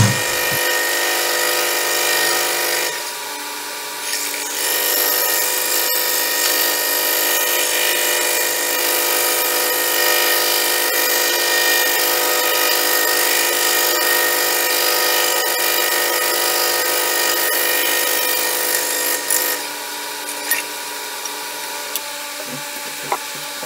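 A power tool drills and cuts a segmented pen blank glued with aluminum pieces, running as a steady, loud whine that dips briefly early on and again near the end.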